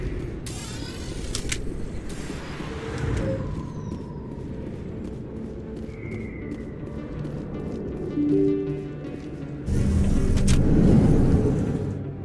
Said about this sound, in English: A lot of traffic here. How fast do you think those cars are going?